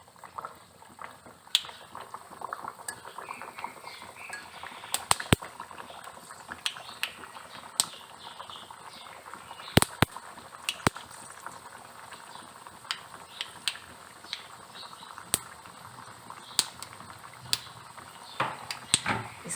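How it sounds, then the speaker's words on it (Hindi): Sweet tikkis frying in hot ghee over a medium flame, a faint, steady sizzle broken by sharp clicks and small pops throughout. "घी गरम हो चुका है। अब हम इसमें टिक्कियाँ डालेंगे।"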